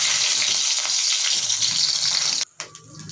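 Green chilies fry in hot oil with browned cumin seeds, giving a steady, close, hissing sizzle that suddenly drops away near the end to a quieter crackle.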